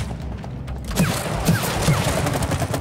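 Gunfire in It Takes Two comes as a dense, loud volley of rapid shots that starts abruptly and keeps going, with a few heavier thumps layered into the barrage.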